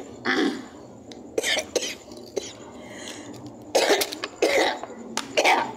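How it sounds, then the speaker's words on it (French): Several short, harsh coughs from a child in uneven bursts, fairly close, with a faint background hum between them. "C'est pas mon fils seul qui tousse."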